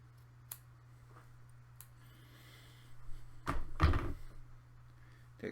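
Scissors snip excess Muji cotton wick for a vape RTA, a few quiet close clicks and a sharper pair of cuts near the end against a faint hum.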